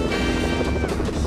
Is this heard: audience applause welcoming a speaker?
no